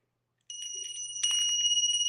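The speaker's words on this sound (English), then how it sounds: "May we ring this bell to enlighten the spirit so they'll know the way by hearing." A ritual bell rings during an initiation rite, its bright sustained metallic tones sounding clearly from about half a second in, then struck again more strongly and left ringing steadily to the end.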